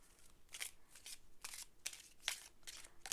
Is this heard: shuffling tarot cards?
yes